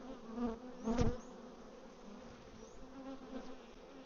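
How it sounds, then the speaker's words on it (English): Honey bees hum steadily around a hive beside capped honey frames, with one bee droning loudly past the microphone near the start before the soft swarm buzz carries on alone. "Lots of bees working."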